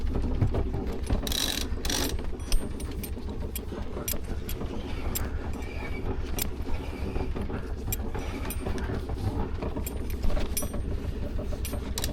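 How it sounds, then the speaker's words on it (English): Sailboat winches ratchet with rapid clicking bursts over the constant low rumble of the boat's running engine, the pawl clatter repeating unevenly and close by. "I'm struggling with these winches."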